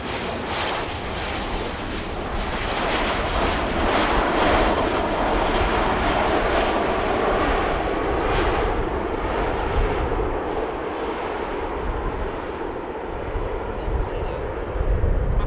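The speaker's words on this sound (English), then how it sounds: "Lovely landing. Absolutely lovely." An airplane landing at Manchester Airport produces a sustained, loud roar of jet engines and rushing air that swells and holds steady throughout, with someone speaking briefly over it.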